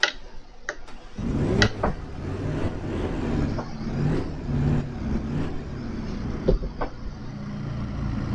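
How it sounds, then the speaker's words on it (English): A McLaren GT4 car engine in the racing video game Assetto Corsa Competizione cranks and starts, then idles with a low, rumbling hum and a few sharp clicks over it. "Start the car, like that."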